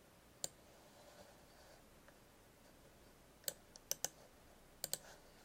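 A few sharp mouse clicks on a Mac while copying text in an Excel spreadsheet: an isolated click early, then short bursts of two or three clicks near the end, faint against a quiet room hiss.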